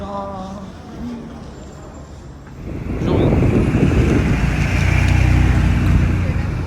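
A Ferrari Pista Spider sports car on a Paris street, rue du Faubourg Saint-Honoré, rises from faint traffic to a loud, close engine roar and rumble that holds through the end, with a voice talking over the start.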